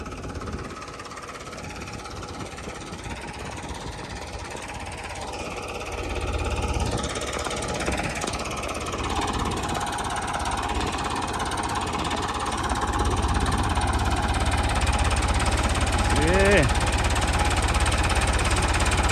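A tractor engine rumbles steadily in a field during mustard sowing, with a continuous rough knocking drone that swells louder as it revs, heard alone with no talk.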